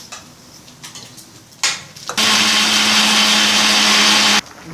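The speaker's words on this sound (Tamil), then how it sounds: "இதெல்லாம் நம்ம வந்து எண்ணெயில் வறுத்துன்ட்டு இப்போ அரைச்சி எடுத்துக்க போகிறோம்." A mixer grinder whirs loudly for about two seconds as it grinds oil-roasted chillies, lentils, sesame, rice, coconut and asafoetida, then cuts off abruptly; a few soft clicks and knocks come before it starts.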